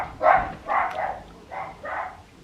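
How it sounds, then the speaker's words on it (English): Dogs bark in four short, evenly spaced bursts at moderate distance, each bark clear and loud with brief gaps between, no talk over them. "Have you heard the dogs?"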